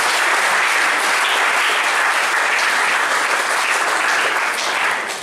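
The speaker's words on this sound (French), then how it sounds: "Veuillez applaudir s'il vous plaît pour Jolie" Audience at a school journalism awards ceremony applauds steadily and loudly, a dense broadband clapping that holds evenly for about five seconds before tapering slightly at the end.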